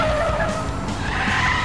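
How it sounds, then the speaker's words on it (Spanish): A toy bus slides across an icy track, giving a short, continuous scraping skid that stays close and loud and has no voices over it. "El autobús se desliza sobre la nieve."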